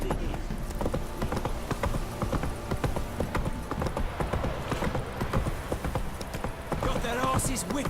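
Hooves of Roach, a horse in The Witcher 3, clip-clop in a quick steady running rhythm, close and continuous, with game ambience underneath and a faint whinny near the end.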